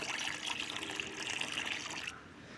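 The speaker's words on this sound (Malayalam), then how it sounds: "അത് നമ്മൾ കപ്പായിട്ട് തന്നെ അങ്ങനെ നന്നായിട്ട് ഇങ്ങനെ ഇളക്കിയെടുത്താൽ മതി" Liquid neem-oil pesticide mixture for bean plants being stirred with a cup, a soft steady sloshing and trickling close by, quiet throughout and cutting off near the end.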